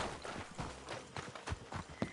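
Horses clip-clopping in Red Dead Redemption 2, a run of quick hoof knocks at a walking pace, fairly faint, under talking voices.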